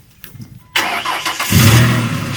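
Jurassic Park car cranking over, then firing up and settling into a steady, fairly loud running engine note, with faint noises before the start.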